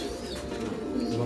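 A pigeon or dove coos softly in low, murmuring tones that run steadily through the short moment, close by and alone with no talk over it.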